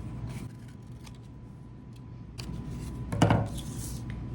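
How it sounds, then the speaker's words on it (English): Scissors snipping leaf shapes out of paper nearby: a few scattered crisp cuts, a louder rustling snip as the paper shifts, and a faint steady hum underneath. "And now I am going to cut out the leaves the same way."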